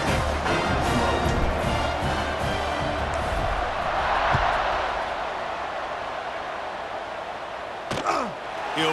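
Stadium crowd cheering at a night game in the College Football 26 video game, a dense continuous roar that swells in the middle and stays loud throughout, with a brief sharp accent near the end.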